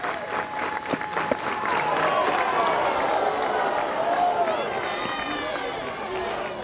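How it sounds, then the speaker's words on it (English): Softball crowd at Pressly Stadium stands and roars during a Florida regional game, a sustained wash of cheering and clapping with a commentator talking over it. "Crowd here at Pressly Stadium up on their feet"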